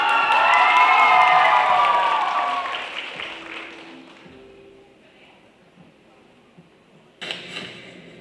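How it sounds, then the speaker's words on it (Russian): Applause and cheering from an audience at a cosplay show greet a performer costumed as Edward Elric from Fullmetal Alchemist, loud and dense for about three seconds, then fading away, followed by a brief burst of noise near the end. "Аплодисменты."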